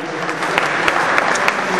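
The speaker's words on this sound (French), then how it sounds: "Donc applaudissements pour eux s'il vous plaît." Audience applause at a club kit-handover event, a steady wash of many hands clapping together, dense and continuous with a few sharper individual claps standing out.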